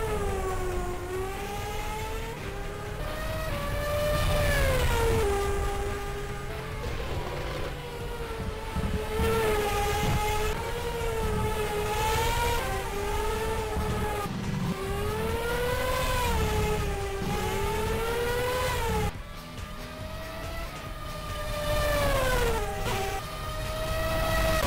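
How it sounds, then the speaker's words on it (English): Formula One cars race around the Singapore street circuit in a sim racing game with the CTDP mod, high revving engines whining and shifting through gears continuously, loud and close with rising and falling pitch. "here's a little bit of footage from Singapore and some sounds of the F1 cars"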